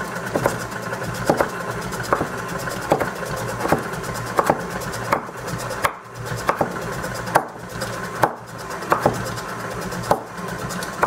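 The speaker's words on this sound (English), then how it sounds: "We're just going to kind of chop this up." A Hershey's cookies and cream candy bar is chopped with a knife in quick, regular strikes. The close thuds repeat steadily over a constant low mechanical hum.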